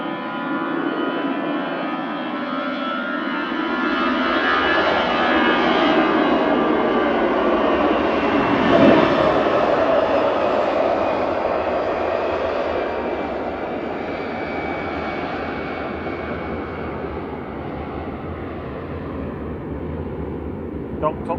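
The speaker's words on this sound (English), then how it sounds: "EasyJet departing now, going short to Palma de Mallorca" An EasyJet jet airliner departs Manchester Airport bound for Palma de Mallorca, a broad, sustained engine roar that swells toward a peak and then slowly fades as it climbs away.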